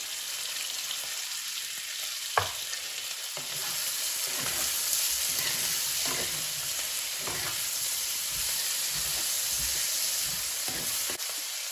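Onions sizzle and fry in oil and ghee in a pan while cooking a Tamil sambar rice dish, a continuous close crackling hiss with occasional stirring scrapes and a sharp clink, no talking.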